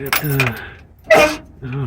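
Keys from a junked 1965 Dodge Dart jangle in one short metallic burst near the middle, between stretches of someone talking close by.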